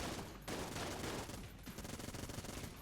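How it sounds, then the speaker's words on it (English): Vulcan cannon in the video game Enter the Gungeon firing in rapid sustained bursts, a dense rattling barrage with a short break near the middle, loud and continuous. "The refill definitely goes into the Vulcan cannon."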